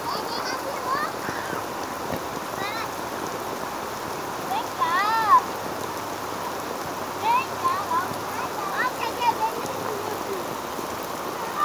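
Rainwater running as a small stream through mud during rain, a steady broadband wash of flowing water and patter, with voices and children's shouts heard intermittently over it.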